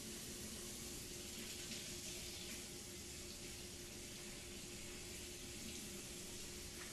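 Water runs steadily from a kitchen sink tap as hair is rinsed under it, a faint, even hiss lasting throughout with no talk.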